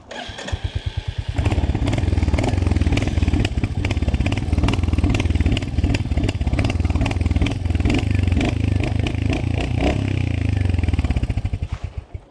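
Royal Enfield Hunter 350 single-cylinder motorcycle idles close by with a steady thumping beat, starting up and running evenly for several seconds before cutting off, with no talk over it.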